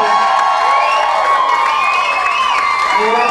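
Guests at a wedding reception at a New Hampshire country club cheer, whoop and shout for the new couple, a loud, dense crowd sound that carries on steadily with voices mixed through it.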